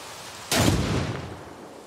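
A single loud gunshot cracks out in the tactical shooter game Ghost Recon Breakpoint, a sharp blast at half a second followed by a long rumbling echo that slowly fades.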